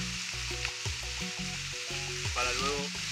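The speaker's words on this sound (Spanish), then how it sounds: "Lo que vamos a hacer aquí es primero sellar la carne en caldo de yacaré y que quede bien dorada." Caiman (yacaré) meat searing in a pan with yacaré broth, a close continuous sizzle and crackle with a steady low hum running underneath.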